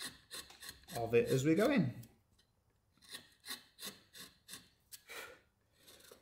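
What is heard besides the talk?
carving tool bevelling the edge of a wooden love spoon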